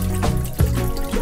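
Water runs and trickles in an outdoor sink or basin while recovered 18k gold is rinsed, a steady close stream with a few louder splashy surges.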